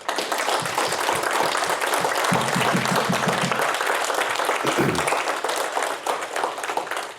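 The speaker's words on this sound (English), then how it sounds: "let's give our leadership team a huge round of applause" An audience at a law firm gathering applauds its leadership team with loud, sustained clapping from many hands that carries on evenly for several seconds, while a voice murmurs faintly underneath.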